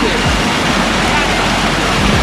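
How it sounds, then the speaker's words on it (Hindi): Loud, steady rushing of the Haflong waterfall in Assam, India, a dense continuous roar close by with no pauses. "झरना झरना,"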